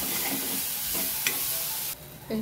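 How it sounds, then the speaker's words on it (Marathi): Moth beans fry in a pan with a steady soft sizzle while a utensil scrapes and stirs them, giving a few distinct clinks and scrapes close by with no talking. "व्यवस्थित मस्त खालून हलवायचं"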